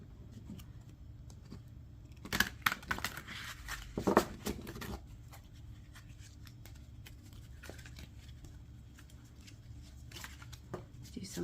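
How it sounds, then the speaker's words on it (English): Tarot cards being shuffled by hand, soft riffling and tapping bursts at close range against a quiet background. "Do some shuffling."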